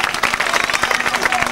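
Close, loud audience applause for a stand-up comedian telling an Italian joke, brisk dense clapping with a few voices underneath, briefly continuous.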